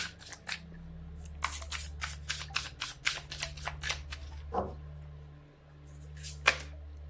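Tarot cards are drawn and handled from a deck, giving a quick run of crisp dry snaps and slides close by over a faint low hum.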